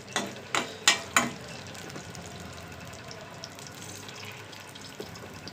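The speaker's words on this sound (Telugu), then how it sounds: "మన ఆవాలు, జీలకర్ర, అదేవిధంగా కరివేపాకు వేసుకుందాము, ఎండుమిరపకాయలు" Mustard seeds, cumin, curry leaves and dried chillies hitting hot oil, four sharp crackling bursts in quick succession followed by a steady, softer sizzle with occasional small pops.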